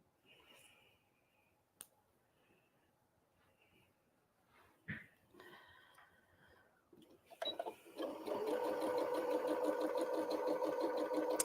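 A few scattered clicks and handling sounds of fabric being prepared give way to a sewing machine stitching a quilt block, its fast steady hum running loud and close through the final seconds.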